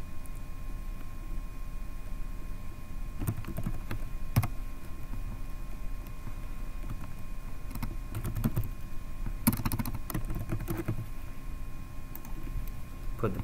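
Someone types a password on a computer keyboard, a few scattered short bursts of key clicks over a quiet steady hum, close by and alone.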